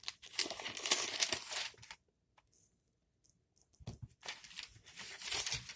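Paper being handled and crinkled while a book is read aloud at home, bursts of crisp rustling that stop for a quiet gap of about two seconds, then return close and lively.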